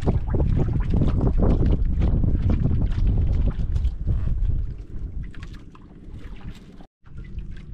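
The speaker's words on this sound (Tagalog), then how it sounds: "Yung malaking bangka rin mga idol." A large boat's engine rumbles loudly nearby, with wind buffeting the microphone, then the noise fades as the vessel moves away.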